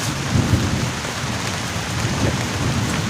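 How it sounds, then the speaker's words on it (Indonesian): Heavy rain pours steadily during a camping trip in a storm, a dense continuous hiss with low rumbling underneath and no voices. "ini hujan."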